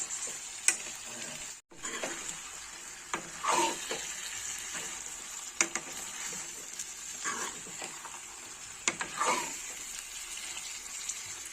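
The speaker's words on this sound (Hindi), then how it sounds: "अब हमें इसे अच्छे से मिक्स करना है और चिकन का कलर चेंज होने तक पकाना है।" Chicken pieces fry over medium-high heat in a pan, a quiet steady sizzle broken by occasional spatula stirs and sharp clinks against the metal.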